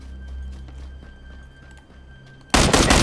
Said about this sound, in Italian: Oh, sparano, sparano me.